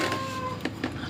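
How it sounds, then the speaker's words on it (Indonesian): A cat at a house where many cats live gives a short meow, with thin harmonic wails near the start, faint against a steady background hiss and a couple of brief knocks. "Di depan rumah gue tuh banyak kucing-kucing."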